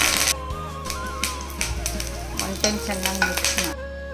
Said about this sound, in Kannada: ಕಡಲೆಬೇಳೆ ಮತ್ತು ಜೀರಿಗೆ ಹಾಕ್ಕೊಂಡು ಅದ್ರ ಜೊತೆನೆ ಕರಿಬೇವಿನ ಸೊಪ್ಪು ಹಾಕಿ